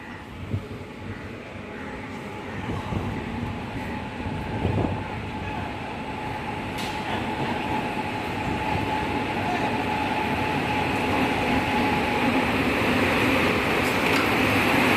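A MEMU local passenger train on the Bankura to Masagram line rumbles steadily throughout, its low mechanical roar slowly building louder, with faint clanks and hiss mixed in.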